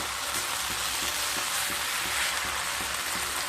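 Water spinach (kolmi shak) being stirred and mixed in a pan with raw mustard oil and crumbled fried lentil dumplings, giving a steady, close sizzle with soft rhythmic scraping strokes throughout and no talking.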